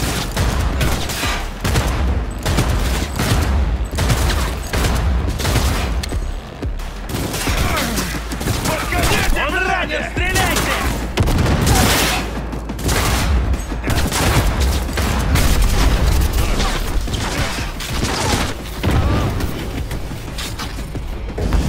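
Rapid, loud bursts of gunfire from the video game Cyberpunk 2077, volleys of shots cracking in dense clusters nearly nonstop, with booming impacts mixed in throughout.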